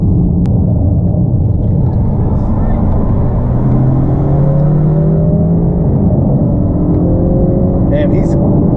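A Honda Civic Si with a 2.0 turbo accelerates hard, its loud, close engine rumble rising steadily in pitch through the gears under constant road and wind roar.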